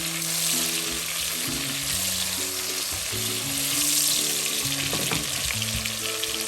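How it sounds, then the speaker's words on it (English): Food sizzles and crackles loudly in hot oil with a constant hiss, close up, while low tonal music plays underneath. "We're obviously frying."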